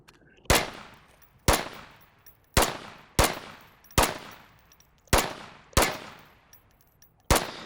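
Volk rifle gunfire in a video game, fired in semi-auto: eight sharp, evenly paced single shots, each with a short decaying tail, loud and close with no talking.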